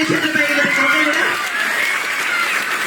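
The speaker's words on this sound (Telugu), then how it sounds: "ఒక్కసారి గట్టిగా చప్పట్లు కొట్టాలి" An audience at a Jabardasth comedy skit success meet claps loudly, a broad wash of applause that holds steady throughout while a voice talks over the start.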